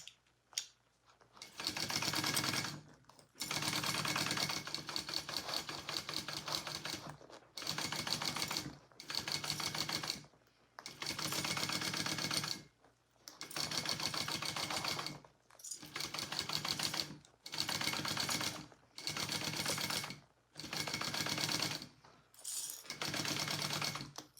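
Domestic sewing machine basting vinyl fabric for a Rosie sling, running in repeated loud bursts of rapid stitching separated by short pauses, close up with no talk.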